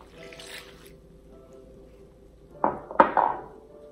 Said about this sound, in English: And I'm going to add 2 cups of water.